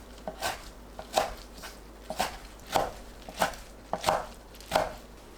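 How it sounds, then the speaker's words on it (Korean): A knife chops through washed seaweed (miyeok) on a cutting board, cutting it into 1 cm pieces: about eight crisp, evenly spaced strikes close up, alone with no talk. "미역을 1cm 간격으로 썰어주세요."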